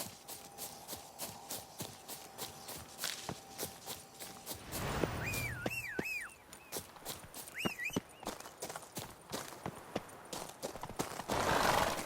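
Roach, a horse in The Witcher 3's Blood and Wine expansion, moves with steady hoof clip-clops across the whole stretch, joined midway by loud rising and falling tonal calls over a low rumble.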